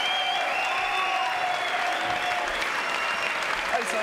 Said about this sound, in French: Sophie Favier, bonsoir, applaudissements pour Sophie.